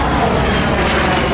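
A de Havilland Vampire FB5 jet fighter bomber passes at an airshow, a loud, dense, continuous engine roar with no pause.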